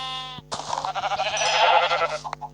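A sheep in Minecraft gives a long, quavering bleat, loud and close, over a steady low electronic hum.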